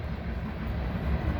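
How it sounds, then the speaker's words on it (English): A train rolls past at New Paris, Indiana, giving a steady, loud, broadband rumble with heavy low-end roar that holds throughout, close by and with no talk over it. "there's a train passing by."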